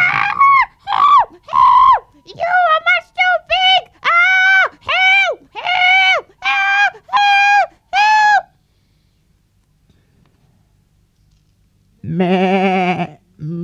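A performer's voice imitates a big billy goat bleating in a puppet show, a rapid string of loud, close, nasal bleats followed by a pause and one more long bleat.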